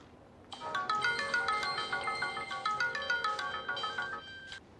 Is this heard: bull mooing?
no